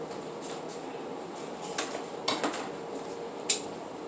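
A hand rummages through cutlery for a knife: a few light, scattered metallic clinks and rattles, then one sharper clack near the end, all fairly quiet and close.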